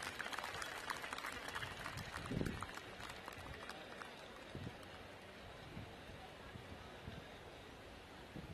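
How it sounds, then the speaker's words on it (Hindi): Applause at a Guru Kashi University annual day function, a crowd clapping in a large, echoey setting: a scattered, somewhat distant patter with a brief louder swell early on, then thinning and continuing at a lower level. "जोरदार तालियां एक बार फिर।"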